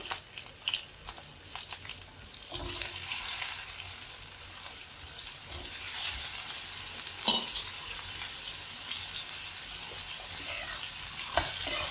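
Potatoes sizzle and fry in hot oil while being stirred for a spring onion potato stir fry. The sound is a steady crackling hiss that jumps louder a few seconds in, with scraping stir strokes throughout and no talking.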